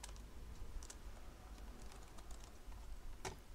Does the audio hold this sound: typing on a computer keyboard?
yes